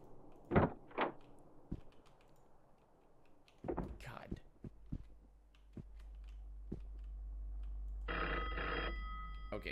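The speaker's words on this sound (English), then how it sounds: "phone's ringing again." A telephone rings in a takeaway shop, its bell sounding in a sustained burst near the end, following scattered knocks, door and handling noises, with a steady low hum underneath.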